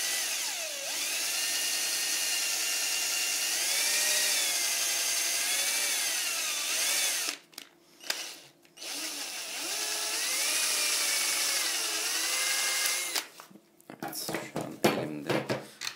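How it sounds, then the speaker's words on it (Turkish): A power tool cuts the tip of a wooden model aircraft propeller, a steady high whining buzz with wavering pitch that runs for several seconds, breaks briefly, resumes, then ends in scattered clatter, close and moderately loud. "Şimdi pervanenin uç kısmını keseceğim."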